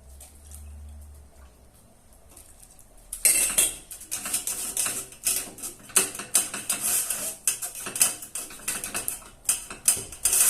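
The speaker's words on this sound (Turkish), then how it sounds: "tel süzgeçten geçireceğim." A wire sieve scraped and clinked as cooked lentil soup is pushed through it, quiet at first, then a steady run of loud metallic rasping and tapping with uneven rhythm, no voices.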